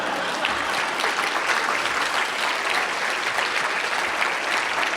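Audience applauding at a conference closing session, a dense, steady wash of clapping that holds at even loudness for the whole stretch with no voices over it.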